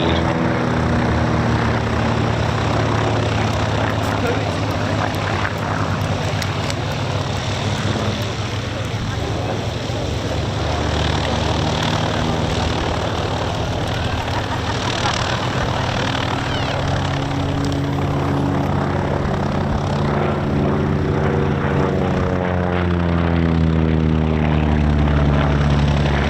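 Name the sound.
Mosquito aircraft propeller engines in flight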